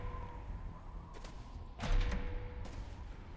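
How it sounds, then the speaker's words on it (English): A modded Halo 3 Covenant base keeps up a steady electronic capture hum as a multiplayer objective, with a dull thump partway through and faint game ambience around it. "It still makes capturing noises even when it's dead."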